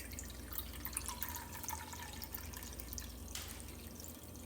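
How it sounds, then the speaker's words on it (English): Water pours steadily into a pot over a corned beef, a continuous splashing, trickling rush that stays close and fairly even throughout. "now I'm going to cover the whole thing with water."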